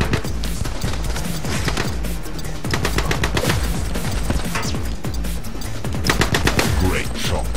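Rapid bursts of gunfire and heavy impacts fill a firefight in the shooter game The Club, set in Venetian canals, loud and nearly continuous with clusters of sharp shots.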